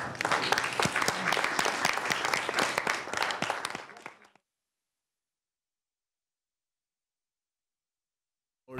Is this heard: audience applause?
yes